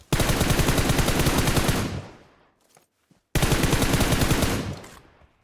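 Machine gun fire in the PUBG Mobile game, two loud sustained bursts of rapid shots separated by a short pause, with the first burst fading before the second begins.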